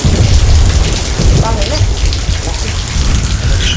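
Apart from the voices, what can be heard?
heavy rain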